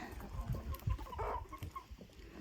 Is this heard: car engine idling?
no